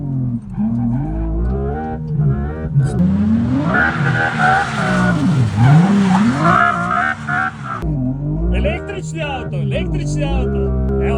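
Electric car drifting at full speed through a corner, tyres skidding with long wavering squeals over a loud continuous drone, a sustained screech rising and falling throughout with no break.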